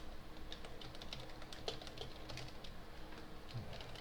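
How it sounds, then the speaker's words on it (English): Rapid, uneven typing on a computer keyboard, a quiet patter of key clicks with occasional louder strikes against a soft room hiss, no talk over it. "So going back to the typing"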